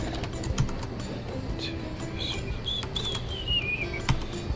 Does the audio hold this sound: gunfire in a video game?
no